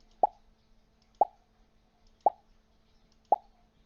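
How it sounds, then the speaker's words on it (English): Four short, identical pop sound effects from Scratch play in a steady rhythm about one second apart, each a crisp isolated plop with silence between. "You should be able to hear a pop sound."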